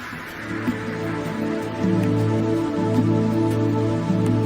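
Steady rain falls in a Thailand tropical rainforest, a dense continuous patter that swells slightly partway through, with no voices.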